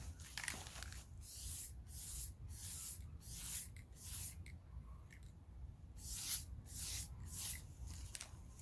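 Repeated short hissing bursts of a rattle can of Brownell's Aluma-Hyde II spray paint on rifles, about a dozen in an uneven rhythm with brief pauses between, close and fairly quiet.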